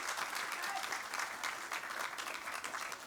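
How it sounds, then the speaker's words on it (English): A crowd at a British High Commission event in Kenya applauds, with brisk, even clapping that carries for about three seconds at a moderate distance. "Tom Porter, Sandra Cheggy and Makami Kuino to stand up and to get a round of applause."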